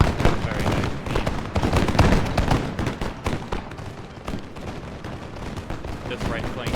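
Musket volleys crackle in a Total War: Empire battle, a dense, continuous rattle of many overlapping shots at close range that stays loud throughout.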